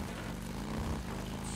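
Droning helicopter engine noise from the video game Days Gone, a steady, loud, continuous hum filling the whole moment without speech.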